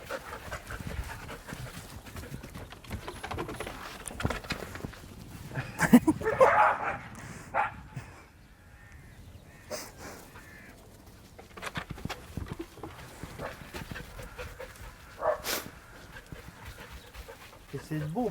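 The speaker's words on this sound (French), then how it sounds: "on peut lâcher notre chien et le voir courir comme ça" A Shiba Inu dog let off the leash pants and gives occasional short barks while running outdoors, heard intermittently beneath steady talking by people nearby.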